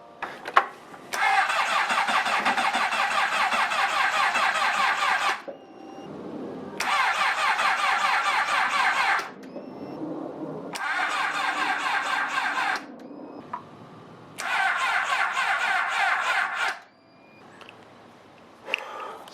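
A Honda CBR600RR motorcycle with a weak battery in cold weather cranks repeatedly in four long bursts of several seconds each, with pauses between attempts, loud and close, without catching into a steady idle.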